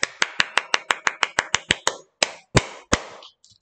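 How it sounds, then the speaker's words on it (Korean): A small group claps at the end of a lesson: a quick, steady run of about a dozen sharp, close claps, followed by a few slower, scattered claps that trail off. "박수!"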